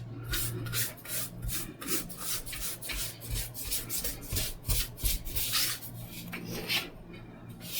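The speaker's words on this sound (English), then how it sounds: "let's take a brush, just kind of dust out everything we sanded" A paintbrush sweeps dust out of a sanded resin table surface, producing continuous soft bristly brushing strokes close up, steady and fairly loud with no talk.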